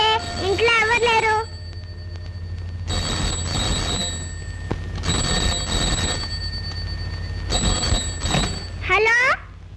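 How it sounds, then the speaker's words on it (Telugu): A telephone rings in an empty house, sounding three long bursts of warbling ring with short pauses between them. Each ring is loud and close, and a voice is heard briefly just before the first ring and just after the last. "ఫోన్ అవుతుంది, ఇంట్లో ఎవరు లేరు."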